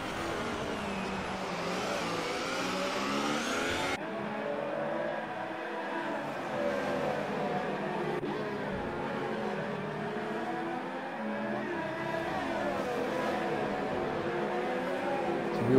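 Race cars in the F1 2018 video game scream past as a continuous, moderately loud engine whine, with pitch sweeping up and down through gear changes and a sharp shift in tone early on.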